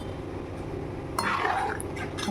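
Boiled hog plums tipped into cooked masoor dal in a cooking pot, a soft wet splash and clatter arriving about halfway through, close and moderately loud over a steady kitchen background hum.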